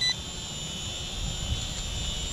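A Holy Stone HS280 camera drone flies outdoors, its rotors giving a steady, fairly faint high-pitched whine over a low background rumble, with no talking.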